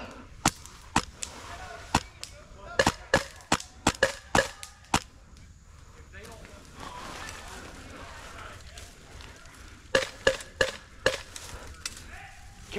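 Gunfire in a shooting video game: sharp single shots in an irregular volley, then a pause and another burst of closely spaced cracks, close and loud.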